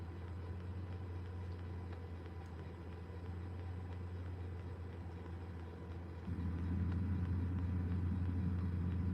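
A car idles outside, giving a steady low engine rumble that continues throughout and swells a little louder and deeper toward the end, with no talking.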